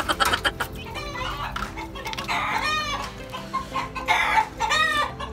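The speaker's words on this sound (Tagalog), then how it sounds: "hawak natin ngayon yung ating 5K sweater na pulit" A seven-month-old Sweater gamefowl pullet clucking up close, repeated short squawky clucks and rising calls in irregular bursts over a busy farmyard background.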